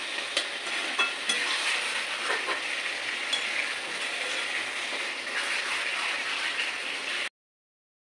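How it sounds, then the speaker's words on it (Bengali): Chicken cooking in a pan, a steady sizzle running about seven seconds with occasional faint clinks of stirring, then cutting to silence. "চিকেনটা সেদ্ধ করে নিচ্ছি"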